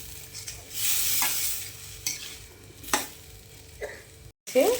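Drained snails are sautéed in a pan, with close sizzling and hissing swells between scraping stirs and a few sharp clinks of the spoon against the pan, with no talking.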